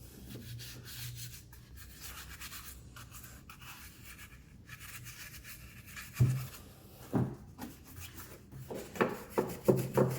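Detailing brushes scrub a greasy car engine bay during a waterless engine clean, giving a close, soft bristly rubbing that runs steadily, then turns into a few louder, sharper scraping strokes near the end.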